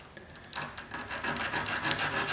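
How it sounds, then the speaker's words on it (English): Coarse 80-grit sandpaper rubs back and forth over radiator fins, making a short burst of quiet, gritty scraping strokes close by. "Get in there with a piece of sandpaper. I got some 80 grit going here."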